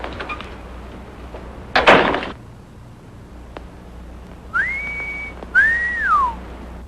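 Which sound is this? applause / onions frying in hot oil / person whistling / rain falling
person whistling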